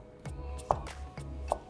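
A knife cuts zucchini in half on a cutting board, giving a few soft, close thuds spaced apart under a low steady background hum.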